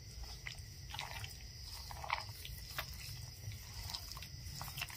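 Chicken is hand-mixed with cornflour and a raw egg for crispy fried chicken: soft, wet squelches and sticky smacks come close up at an irregular pace over a low, steady background hum.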